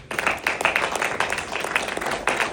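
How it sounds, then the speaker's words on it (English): An audience at a book signing event applauds, steady scattered hand claps at moderate loudness from a modest crowd, with no clear talk over them. "Give them a round of applause for that"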